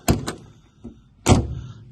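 The door of a 1966 MG Midget MkII convertible clicks and thuds twice, then after a pause a heavier slam lands close by, with a faint rattle between the knocks.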